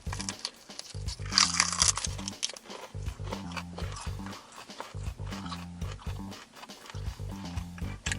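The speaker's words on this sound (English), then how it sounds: "It's definitely a crunch water kind of situation here." Raw celery stalks being bitten and chewed, giving repeated loud crisp crunches in bursts roughly every second, close up and with no talking.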